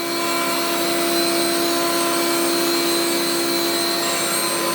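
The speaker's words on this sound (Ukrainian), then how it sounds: "Ну, дрем. Подивимося, що буде. це дрем і дрем" A Dremel rotary tool grinds a metal part, holding a steady loud high-pitched whine with a broad hiss that runs unbroken for the whole stretch, close up and alone.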